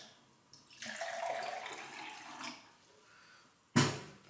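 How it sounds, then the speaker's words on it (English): Distilled water from a countertop distiller is poured into a glass. It makes a soft, continuous splashing trickle for about three seconds, followed by a sharp glassy clink near the end. "Pour a little glass."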